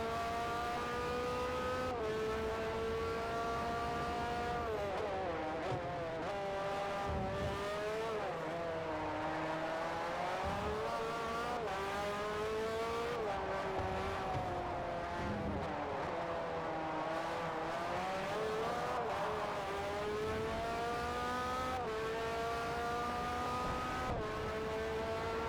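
A hypercar engine in the Forza Motorsport 4 racing game revs and pulls continuously for around twenty-five seconds, its loud, smooth howl rising and falling through gear changes without a break.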